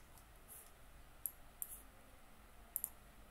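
A computer mouse gives a handful of sharp, faint clicks at irregular intervals, some in quick pairs, over a quiet background.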